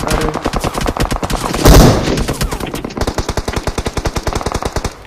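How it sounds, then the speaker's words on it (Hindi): Rapid automatic gunfire in a video game battle, loud and close, with steady bursts of rhythmic shots and a brief heavier blast in between, continuing almost without pause. "यहाँ पे एक बंदा अचानक से मेरे टीममेट के ऊपर गोली चलाता है"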